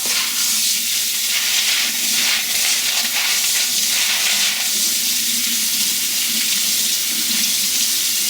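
Tap water runs steadily over dried beans being rinsed for hummus, a loud continuous hiss and splash with faint shifting as the beans are stirred.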